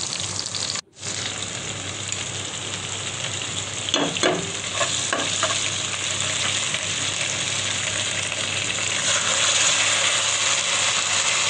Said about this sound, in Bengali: ভালো করে একটু পানি দিয়ে কষিয়ে নেব।